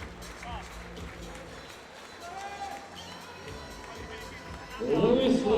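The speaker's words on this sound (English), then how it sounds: "Let's have a massive round of applause for his very game opponent from Belarus" Applause and crowd noise for a boxer at King's Hall fill the arena as a loud, steady wash that swells near the end, with voices over it.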